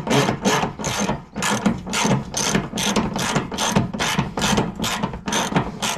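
A hand ratchet wrench clicks steadily as a bolt is tightened down, with about a dozen quick, loud ratcheting bursts in a regular back-and-forth rhythm and no talking.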